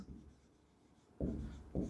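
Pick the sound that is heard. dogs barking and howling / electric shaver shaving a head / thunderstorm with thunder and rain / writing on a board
writing on a board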